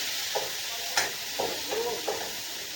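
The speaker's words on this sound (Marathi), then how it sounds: "पनीर टाकून घेऊ पनीरला छान आपल्याला भाजून घ्यायचं तेलात चांगलं" Paneer sizzles in hot oil as it is stirred in a pan, a steady bright frying hiss broken by several short scraping stirs, close and moderately loud with no talking.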